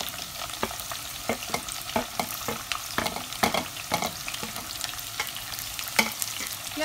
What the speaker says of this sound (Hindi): प्याज डाल के हमने इसको थोड़ी देर भूनना है।